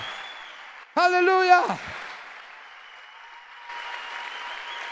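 A church congregation applauds at an evening Sunday service, steady broadband clapping throughout while a voice briefly rings out over it near the start.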